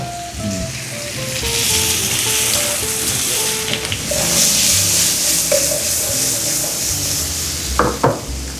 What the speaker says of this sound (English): Now I'm gonna chuck the plantains in here.